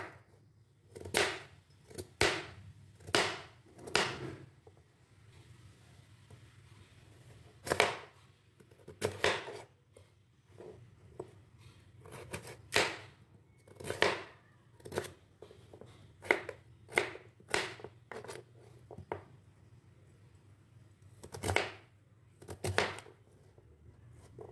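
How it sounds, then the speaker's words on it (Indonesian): Yellow sweet potato being chopped into small pieces with a knife on a board: a long series of sharp, close, fairly loud knife strikes in quick irregular bursts, with brief pauses between runs and no talking. "Pertama ini aku potong ubi kuning guys. Potong kecil-kecil"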